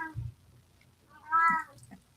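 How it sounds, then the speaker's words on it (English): Indoors, a domestic cat lets out one loud, drawn-out meow close to the microphone. A faint noise comes just before it and a short sound follows after. "I apologize for my loud cat."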